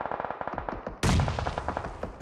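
Rapid automatic gunfire from the video game PUBG Mobile during an esports championship match, a fast rattling burst of shots that cuts to a louder, closer volley midway and keeps firing to the end.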